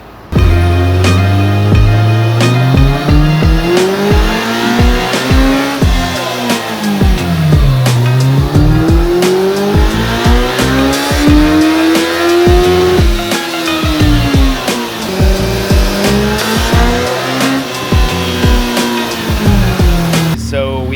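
A 2018 Kawasaki ZX-14R motorcycle engine revs repeatedly while warming up for a baseline dyno run, its pitch sweeping up and down in long loud pulls with sharp crackles, continuous for about twenty seconds.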